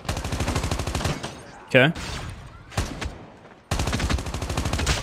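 Automatic AK117 rifle fire in a first-person shooter video game, loud rapid bursts opening and closing the stretch, with a brief pause midway where a voice speaks briefly.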